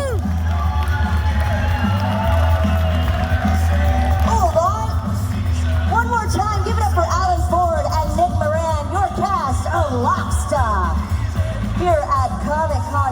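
Audience at Telford Comic Con cheers, whoops and applauds loudly and steadily as a guest is welcomed on stage, a dense crowd roar with yells rising over a constant low hum of the hall.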